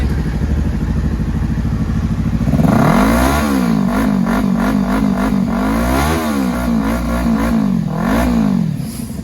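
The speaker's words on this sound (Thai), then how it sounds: "ขอ ฟัง เสียงเครื่องฮะ" A motorcycle engine, either a 2016 Honda CB650F or a Kawasaki Ninja 300, idles loudly and close, then is revved repeatedly in rising and falling bursts before settling back down, with no talk.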